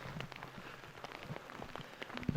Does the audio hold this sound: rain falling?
yes